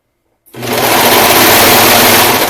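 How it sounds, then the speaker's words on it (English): A serger starts abruptly and runs at steady high speed, stitching the back center seam of a sailor-style gaiter, loud, close and continuous with no talking. "I'm going to be using my serger."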